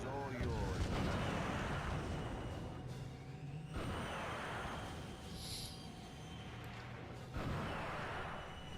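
Rocket launcher fire in the game 007: Everything or Nothing, heavy rumbling blasts and roaring explosions that fill the scene continuously, with a fresh burst near the end over constant loud game noise.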